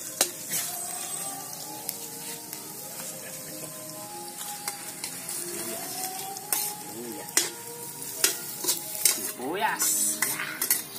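Garlic sautéing in a pan as the base for a field rat adobo, a soft steady sizzle with a utensil stirring and clinking against metal cookware, growing busier toward the end.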